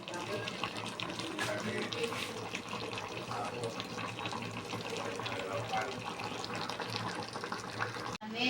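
Coconut milk pours into a pan of tilapia wrapped for sinanglay, making a continuous, fairly quiet liquid rush that runs steadily for several seconds and cuts off sharply at the end.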